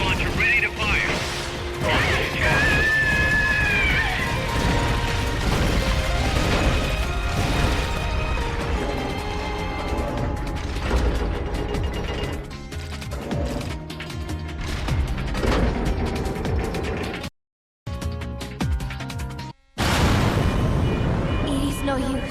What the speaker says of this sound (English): Locked up rocket launcher ready to fire.